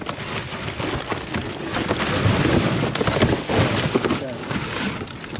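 Steady heavy rain roars outdoors with gusty wind buffeting the microphone, a dense continuous wash of noise without a break.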